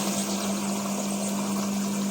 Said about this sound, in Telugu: ఆ మోటార్ని అయితే మనం గాబులు పెట్టి నడిపిస్తే చాలా పర్ఫెక్ట్గా అయితే నడుస్తుంది